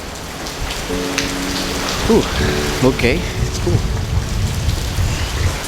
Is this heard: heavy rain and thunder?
yes